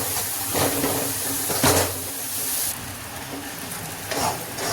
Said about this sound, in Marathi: गूळ असं पिघळायला पाहिजे.